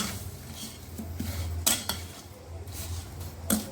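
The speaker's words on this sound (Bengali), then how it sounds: "তারপরে আমি চিনির সাথে আমগুলো ভালো করে" Raw mango pieces being mixed with about a cup of sugar in a bowl for a Burmese-style pickle: soft, continuous scraping and stirring with a few sharper clinks of utensil against dish, close by, with no talking.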